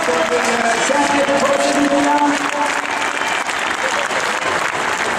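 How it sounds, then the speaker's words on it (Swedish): A stadium crowd at a Monster Jam freestyle motocross show applauds and cheers in a loud, sustained roar of clapping, with a voice speaking briefly over it. "Fortsätt att applådera!"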